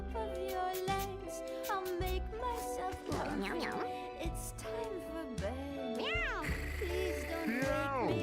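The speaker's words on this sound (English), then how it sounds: "You can see why people lose their minds hearing this meow all the time." Cat meows from the video game Mewgenics, several synthetic rising calls sounding over busy game music, with a person talking around them.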